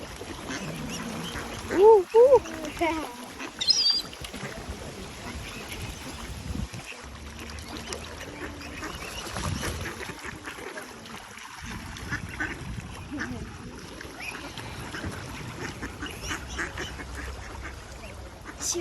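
Ducks waiting to be fed bread give a few brief quacks early on, mid-distance, then mostly fade into ongoing outdoor water ambience with background noise.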